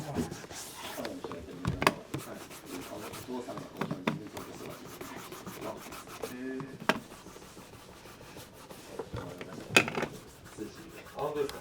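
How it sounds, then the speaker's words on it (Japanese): A cloth wrapped around the fingers buffs a German leather shoe, giving soft repeated rubbing and rasping strokes under ongoing speech, with a few sharper brushes standing out. "でここから練る生地で磨いていきますね。"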